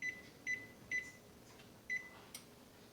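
An oven control panel beeping as the temperature is set to 375 degrees: four short, clear electronic beeps at irregular intervals over a faint steady room hum, no talking.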